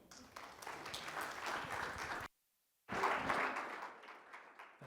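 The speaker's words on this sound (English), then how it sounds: "So let's give him a round of applause." Audience applause welcoming a speaker to the stage at a university symposium, a dense, steady clapping that fills the room for over two seconds, drops to silence, then resumes loudly before tapering, with a brief spoken word.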